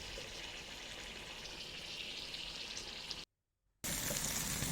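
Ingredients for a Malabar sardine fish curry fry and sauté in a pan with a steady, soft sizzle that cuts out briefly to silence, then returns.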